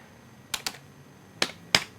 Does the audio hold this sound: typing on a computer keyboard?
yes